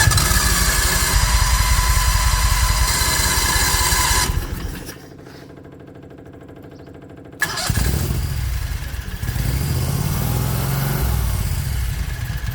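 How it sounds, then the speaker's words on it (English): A 670cc Predator two-cylinder engine in a 1969 Renault runs loudly and close with a steady buzzing rhythm, cuts out for about three seconds, then restarts and settles into a rough, fast idle. "choking it will get the engine to fire right off without any drama."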